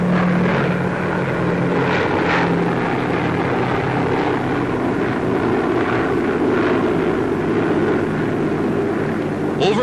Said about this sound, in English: United States bombers take off from bases in the Arctic to blast the remaining Japanese on Kiska